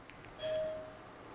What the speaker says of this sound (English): my son goes in and rings the doorbell